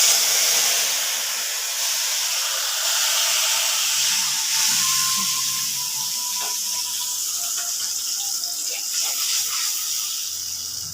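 Spices sizzle and hiss in hot oil in a pan, a steady close frying sound with faint clinks of a utensil, no talking.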